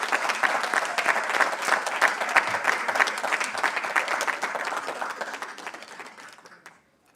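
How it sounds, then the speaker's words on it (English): Audience applause fills a hall at a university professorial inauguration in the Faculty of Science, a dense steady clapping that holds for about six seconds, then thins and fades out near the end. "Let's give Professor Fawole once again a round of applause."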